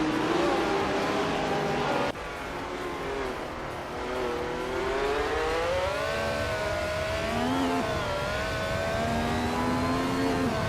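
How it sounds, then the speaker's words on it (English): Lotus 72D Formula One car from 1970 in a racing video game, its engine droning loud and steady while the pitch rises and falls through gear changes, with a sudden shift about two seconds in. "Zessatur is driving a Lotus 72D from 1970."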